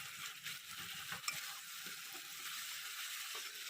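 Mutton masala fries in a pan, a steady close sizzle with light stirring clicks and scrapes running through the whole stretch, no voices.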